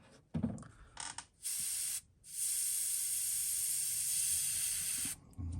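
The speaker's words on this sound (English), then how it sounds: "put a few drops of this in the gun, spraying on low pressure, about 15." An airbrush hisses in steady bursts at about 15 psi while painting a fishing lure: a few short sprays, then one long continuous low-pressure spray lasting several seconds, close by with brief pauses between.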